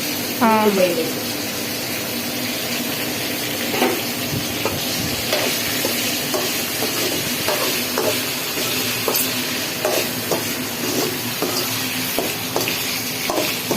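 Eggplant pieces fry in oil with a continuous sizzle and scattered light crackles, close and moderately loud, while a person talks over part of it.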